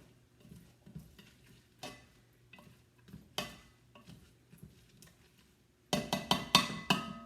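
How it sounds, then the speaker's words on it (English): Onion softening in melting butter with Philadelphia cream cheese, heard as a spoon scraping and stirring a pan with a light sizzle, then louder clattering strokes near the end, with no talk. "So what I do is I let my butter melt and my onion saute until the onions get just a little bit soft."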